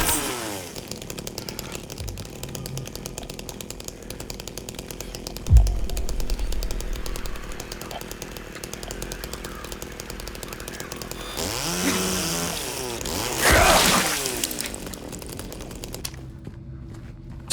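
A chainsaw runs steadily in the Silent Hill 2 remake, a buzzing, rattling drone throughout, broken by a heavy thump and a louder surge near the end before it cuts out, with no talking.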